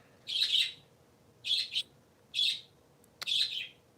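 Three small pet parakeets chirp in four short bursts of bright, twittering calls about a second apart, fairly close and moderately loud over a quiet room, with no talking.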